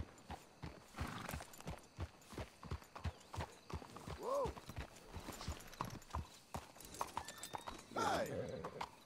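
Horses' hooves clip-clop in a steady rhythmic gait in the video game Red Dead Redemption 2, with a horse whinnying midway and a voice speaking near the end, all at moderate, fairly close level.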